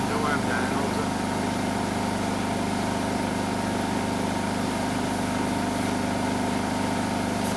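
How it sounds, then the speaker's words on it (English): An air pump blows rock dust out of a drilled blast hole, making a steady, loud, unbroken roar with a low mechanical hum underneath. "So he's blowing the dust out"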